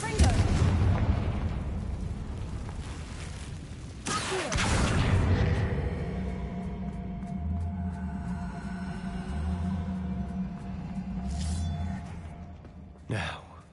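Confringo fire spell blasts in Hogwarts Legacy: a loud explosive burst at the start and another at about four seconds, each followed by a rumbling, crackling decay and low mechanical drones.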